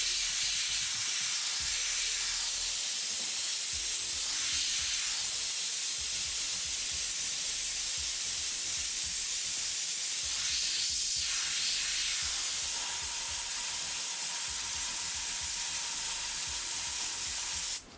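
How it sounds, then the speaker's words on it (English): An airbrush sprays paint in a continuous close hiss, swelling and easing in intensity as passes are made, with no talking. "So we get a nice wide spray as well as up close to find a couple of these little glares."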